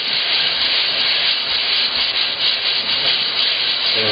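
A power sander works close up on a titanium part, giving a continuous, loud abrasive whir and grinding hiss with no talk.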